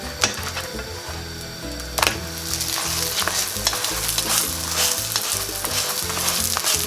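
Chapati browning in a hot pan over a fire, a steady close sizzle and crackle with occasional sharper taps and scrapes as the flatbread is pressed down, no voices.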